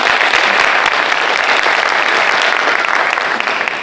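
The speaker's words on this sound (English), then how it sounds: "Can we give him a round of applause, please?" Loud, dense applause fills the hall at a fire science cadet graduation, a steady wash of many hands clapping close by without a break.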